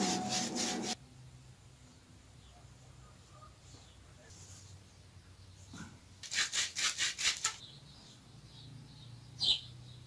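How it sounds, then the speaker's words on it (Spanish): Sandpaper rubs on a water pipe fitting being prepared for gluing, heard as a rapid burst of scratchy strokes near the start and a rhythmic run of about six strokes later, fairly close, with a brief scrape near the end. "Ya sabemos que se lija por dentro y por fuera."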